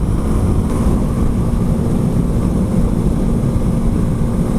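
Heavy, steady wind roar buffets the rider on an adventure motorcycle at highway speed, a dense continuous low rumble with no breaks.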